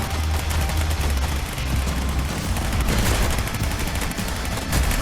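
Tommy gun fire in a first-person shooter video game: dense, sustained rapid bursts of automatic gunfire, loud and continuous throughout, with no talking.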